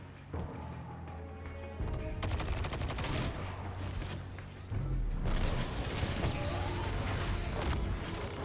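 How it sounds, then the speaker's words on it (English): Cabal cannons fire in Destiny 2 as a dense fusillade of rapid booming shots, loud and close, with mechanical clanks and creaks between bursts and no talk over them. "It must be difficult for you to see Cabal cannons turned against their makers."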